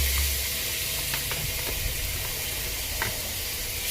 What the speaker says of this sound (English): And now I will put the tomato.